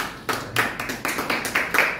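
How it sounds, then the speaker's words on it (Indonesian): A church congregation at a Sunday service claps in scattered, uneven bursts for about two seconds, the claps fairly close and moderately loud with no talking over them. "Tepuk tangan, saudara."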